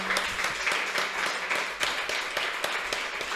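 An audience applauds a guest, Don Dagoberto Moll, at a live show: steady, dense clapping of many hands at moderate volume, continuous for a few seconds with occasional sharper claps.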